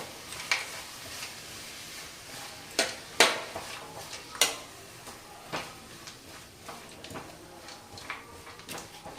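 Cashews and rice stirred and frying in a pan over a medium flame, with soft steady sizzle broken by irregular scraping clinks of a utensil against the pan, fairly close and with no talking.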